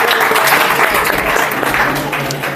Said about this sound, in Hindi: फिर भी ताली बजाओ उसके लिए